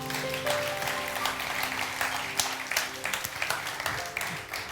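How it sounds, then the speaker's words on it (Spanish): A church congregation claps in a sustained burst of applause at moderate volume, with some voices mixed in. "Denle un fuerte aplauso a su Señor"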